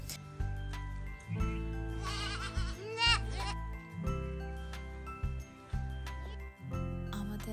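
Goats kept on a rooftop let out a couple of wavering, nasal bleats in the middle, close by, over a steady bed of background music.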